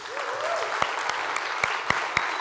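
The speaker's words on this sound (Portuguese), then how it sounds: "Você pode dar uma salva de palmas para Jesus?" A church congregation claps in a round of applause for Jesus, a steady wash of clapping with a few sharper individual claps standing out near the front.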